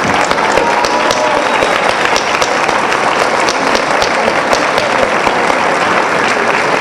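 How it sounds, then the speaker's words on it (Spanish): Crowd at a campaign victory celebration applauds loudly and steadily, thick continuous clapping from many hands close by, with faint cheering voices mixed in. "También merecen un aplauso."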